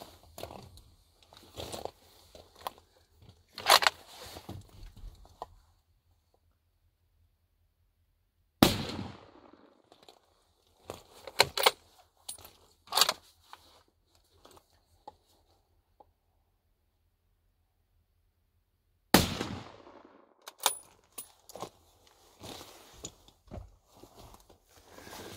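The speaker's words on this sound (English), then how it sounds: "So here's a couple of shots" On a mountaintop, several rifle shots ring out, each a loud, sharp crack with a short echo, separated by long stretches of near silence and faint handling noises.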